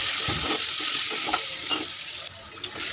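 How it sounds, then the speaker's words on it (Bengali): Chopped onions fry in hot oil in a pan, a loud, close, continuous sizzle with occasional stirring scrapes and no voices. "পেঁয়াজটা লাল করে ভেজে নিচ্ছি"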